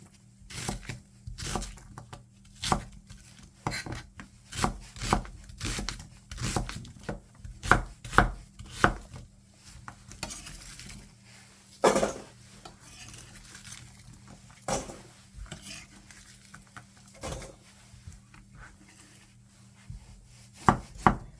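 Steady knife chopping of an onion on a cutting board, a run of sharp close taps with brief pauses, some louder knocks, no talking.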